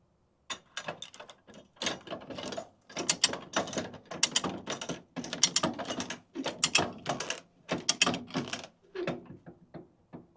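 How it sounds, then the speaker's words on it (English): Ratcheting winch bar tightening a load strap on a flatbed truck, loud close clicking ratchet strokes in repeated bursts with short gaps, no talk. "I've got to lock it down with my favorite ratcheting winch bar"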